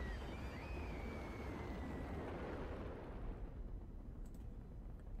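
A rocket in the game Little Inferno blows up with a loud, sustained blast and roaring rumble that slowly fades over several seconds, a short whistle riding on top early, with no talk.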